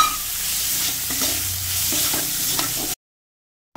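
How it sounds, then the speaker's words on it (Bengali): Soaked raw mung dal is dropped into hot oil with spices and stirred, giving a loud close sizzle with scraping strokes of a spoon for about three seconds before cutting to silence. "এখন এই ডালটাকে আমি তেলের মধ্যে ছেড়ে দিচ্ছি"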